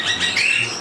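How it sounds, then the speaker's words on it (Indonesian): Parrot at a zoo park giving a brief, bright whistling call with rising and falling tones, close and fairly loud, with no talking. "Dan ini juga ada burung beo."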